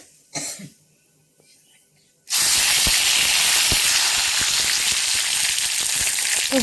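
After a short quiet pause with a faint cough, curry leaves drop into hot oil already holding mustard seeds in a kadai and burst into a loud, steady sizzle with sharp crackles and pops.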